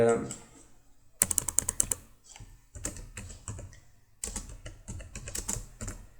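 Bursts of rapid, crisp key clicks from a computer keyboard as Java code is typed, in two main runs with short pauses between, close and fairly loud.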